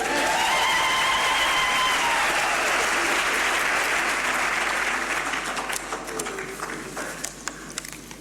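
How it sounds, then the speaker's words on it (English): Audience applause at a university spring graduation ceremony, honoring the choir: dense, steady clapping fills the hall, then thins and tapers into scattered claps near the end. "the choir deserves yet another round of applause"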